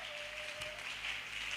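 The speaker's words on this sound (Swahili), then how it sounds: "Situmpigie Bwana Yesu makofi." A church congregation in Tanzania claps together in a dense, steady patter of applause that sounds somewhat distant, with a faint tone at the start.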